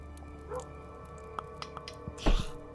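A dog in the game Kingdom: New Lands gives a few soft, short barks and whimpers, faint against a quiet musical backdrop, with a louder yelp near the end.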